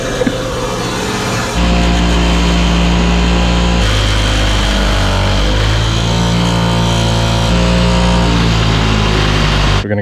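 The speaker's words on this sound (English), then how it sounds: "Before putting these rusty bolts back on, we're going to clean them up with the wire brush." A powered wire brush scours rusty bolts during exhaust work on a Yamaha Bolt motorcycle, its loud, steady motor whine kicking in after a brief lull and running on without a break.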